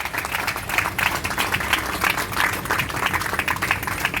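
A crowd at a clerks' strike protest claps for fellow workers on hunger strike, producing an uneven, fairly loud patter of many hands outdoors with slight rhythmic surges throughout.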